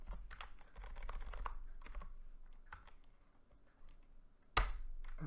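Keys clatter on a computer keyboard as someone types a network router command, a quick run of soft close clicks followed by pauses and one sharper tap near the end.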